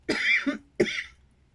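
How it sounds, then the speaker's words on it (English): Two sharp coughs, close and loud, the second following shortly after the first. "I just got an overwhelming urge to cough"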